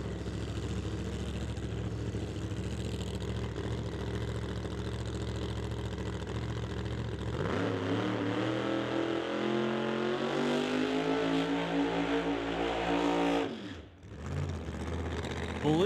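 Khalid Balooshi's Pro Mod drag racing car from the Bahrain 1 team idles with a lumpy, steady rumble, then revs up in a long climbing pull before cutting off sharply and briefly catching again.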